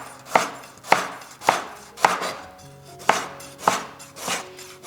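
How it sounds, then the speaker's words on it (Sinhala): A knife chops a tomato into pieces for a Sri Lankan carrot sambol, giving eight sharp, evenly spaced strikes on a cutting board, close and clear with no talking. "ඊට පස්සේ අපි තක්කාලිත් මේ විදිහටම එකම විදිහට එකම හැඩයට කැපෙන්න ඕන"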